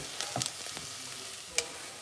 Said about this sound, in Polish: tak tutaj kolega robi wspaniały sos, co to będzie?